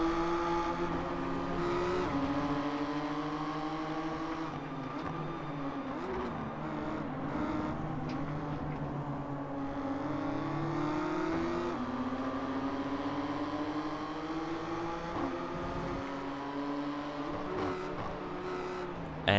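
Race car engine in the iRacing sim game, a continuous loud whine rising and falling through gear shifts as the car accelerates and brakes through corners, with no talking.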